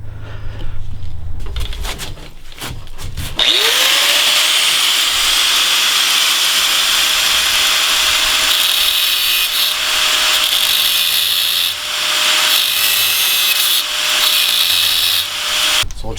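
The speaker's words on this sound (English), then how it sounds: "I'm just going to get my grinder out while I have the window out to make my life a lot easier" An angle grinder cuts off a broken screw on a school bus window frame, the motor spinning up and then grinding steadily and loudly for many seconds with a high whine, alone with no talk.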